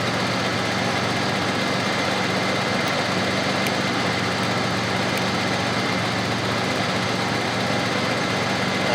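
A Murray small gas engine runs steadily and loudly up close, a dense continuous drone with little change in level while the throttle is worked, and no voices.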